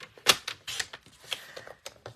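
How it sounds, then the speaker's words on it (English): Card stock being trimmed to size for a fun fold greeting card, a quick run of faint, crisp clicks and light scraping taps up close. "So let me cut that off at 4 inches."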